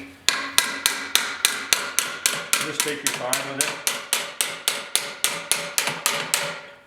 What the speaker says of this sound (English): You could just put a piece of metal in there and then bend it over with a hammer.